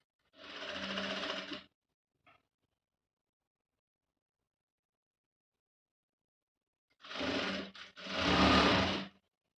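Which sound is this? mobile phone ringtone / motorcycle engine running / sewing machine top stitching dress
sewing machine top stitching dress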